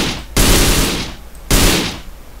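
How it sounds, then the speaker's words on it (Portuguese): Gunfire from GTA San Andreas: two loud, close bursts of shots about a second apart, each with a sharp onset that fades away, with no talk. "Você pode mirar e atirar."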